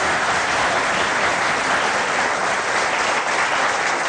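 Steady, dense audience applause from a crowd at a televised gathering of a Tokat community association, continuous and fairly loud throughout with no pauses.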